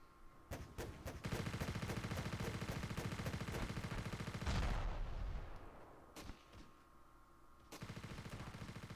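Heavy missile blasts and rattling gunfire from the video game Ravenfield roar continuously, with a big explosion near the middle and scattered sharp shots trailing off afterward.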